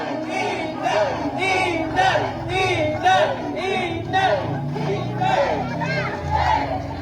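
A huge political rally crowd in Davao City chants in a steady rhythm, with loud pulses about once a second rising from a dense roar of many voices.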